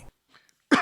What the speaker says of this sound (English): I'm sorry, I had a cough.